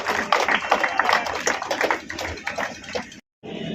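Loud, dense applause from an audience at a public event in Gandhi Stadium, Begusarai, welcoming women guests, with clapping filling the clip before a brief silent break and a short return.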